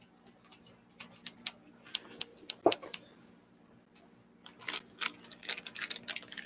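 Scissors cut plastic bags at a workbench, with a run of sharp, close snips and crinkles, a short pause, then a quicker burst of cutting.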